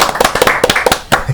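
A few people clap to welcome a guest at a small pub-style studio set, sharp close hand claps in an uneven quick patter over little more than a second.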